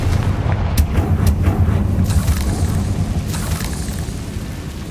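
A Confringo spell explodes in the Hogwarts Legacy video game, a heavy booming blast followed by rumbling debris and crackling bursts that fade over several seconds.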